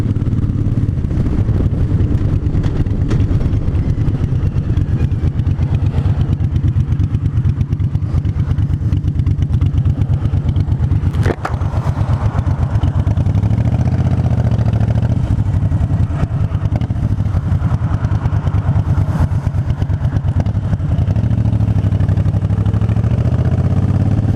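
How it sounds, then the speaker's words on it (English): A 2009 Harley-Davidson Fat Bob engine runs continuously while riding, a loud, close, steady rumbling throb with a brief sharp click partway through and no talking. "I actually think my bike is sounding better with the new plugs"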